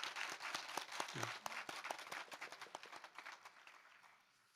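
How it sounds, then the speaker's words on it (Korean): Church congregation clapping during Sunday worship to welcome two returning members, a steady patter of many hands filling the room at moderate level before tapering off toward the end. "우리 박수로 환영하겠습니다"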